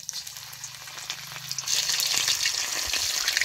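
Paneer fries in hot, well-heated oil in a kadhai over a wood-fired stove, a soft sizzling bubble that swells louder and busier halfway through, with no talk.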